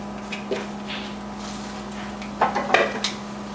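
Freshly spun salad greens dropped into a pan of warmed oil and tamari, giving a few brief clattering rustles and soft sizzling bursts over a steady low kitchen hum, with no talking.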